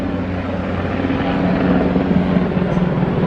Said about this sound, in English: And that's called a Black Hawk right there.